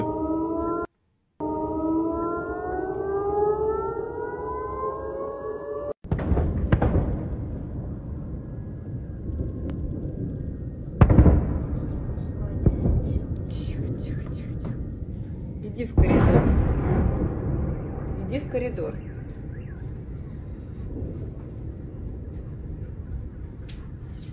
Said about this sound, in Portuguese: várias explosões